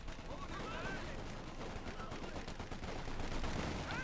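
Gunfire from the real-time strategy game Company of Heroes 2: rapid overlapping rifle and machine-gun bursts crackle continuously within a dense battle soundscape.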